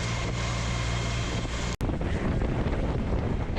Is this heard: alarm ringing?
no